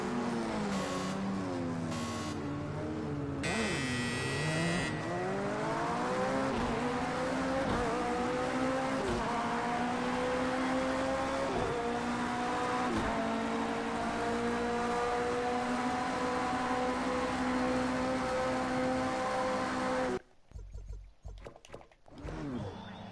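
LMP prototype race cars accelerating away at Le Mans, a loud dense engine roar with pitch climbing through several gear changes and a sustained high whine, then an abrupt cut to broken, quieter sound.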